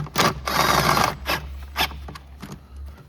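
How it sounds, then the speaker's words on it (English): Air box cover screws being driven down on a 2017 Honda CR-V 1.5L turbo engine, a close series of rasping, grinding turns in short bursts with brief pauses between, no one speaking. "it's just as simple as putting this back on and screwing these down"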